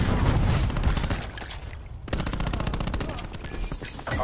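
Rapid automatic gunfire in the shooter game Black Ops 4 during a competitive hardpoint match, loud bursts of closely spaced shots broken by a brief lull, then more fast firing.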